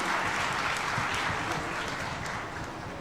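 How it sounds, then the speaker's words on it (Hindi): Steady, dense audience applause at a Jain religious discourse gathering, continuous clapping throughout that eases slightly toward the end. "ताली बजाकर आपकी अनुमोदना करेंगे"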